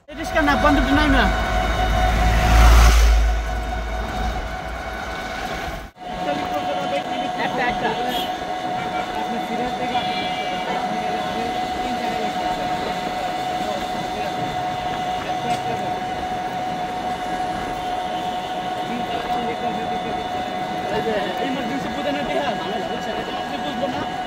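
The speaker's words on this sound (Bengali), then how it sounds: "মেট্রো রেল চলে আসলাম" A metro train rumbles with a steady, droning hum and a loud thump near the start, while people talk over the noise.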